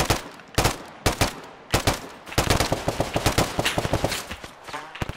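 Rapid bursts of gunfire from the Arma 3 military game, loud and close, with repeated automatic volleys and single cracks packed across the whole stretch, no talk.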